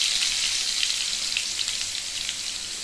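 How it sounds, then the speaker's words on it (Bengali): Diced potatoes frying in oil, a close, crackling sizzle with scattered pops spattering over a steady hiss, no voices present. "ডুমো করে কেটে রাখা আলুগুলো ভেজে নেব তেলে, পুরো ব্রাউন কালার করে।"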